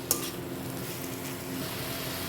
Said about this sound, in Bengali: এবার এর ভেতরে সেদ্ধ করে রাখা মোচাটা আমি দিয়ে দেবো। দিয়ে এটাকে আমি মশলার সঙ্গে একটু ভেজে নেব।